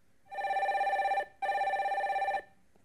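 An incoming call rings through a telephone in two long warbling bursts with a short gap between them, clear and close in an otherwise quiet room.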